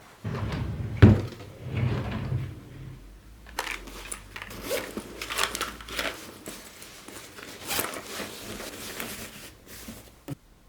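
Drawers on the right side of a work desk being opened and shut while clearing out beauty and art supplies, giving a series of close wooden slides, knocks and rattling contents, with one loud thump near the start.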